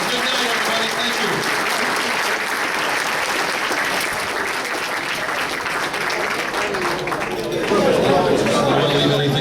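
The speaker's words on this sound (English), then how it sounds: "Big round of applause for everybody." A crowd at a 2013 New York State football hall of fame induction ceremony claps in loud, sustained applause that swells near the end, with chatter and voices mixed in.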